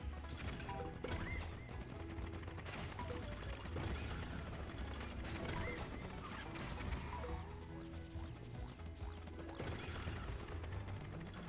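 A cow charging and galloping in the Wii Play game Charge, with thudding hoofbeats, crashes and clattering effects layered over continuous, busy game music, loud and unbroken throughout.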